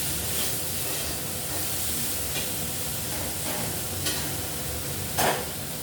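Okra frying in a pan with salt and turmeric gives a steady, close sizzling hiss, broken by a few brief clattering stirs. No one speaks.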